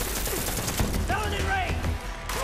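Gunfire in Borderlands 3 during the Psycho Krieg and the Fantastic Fustercluck DLC: quick bursts of shots crackle amid game effects and music, with talk layered over the action throughout.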